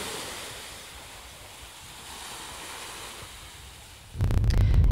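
Waves washing onto the beach at Belmont, Jamaica, a continuous soft surf rush rising and falling, then a heavy blast of wind buffeting the microphone near the end.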